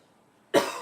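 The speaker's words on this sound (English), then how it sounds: "I'm gonna cough," One sharp, close cough bursts out abruptly after a moment of near silence.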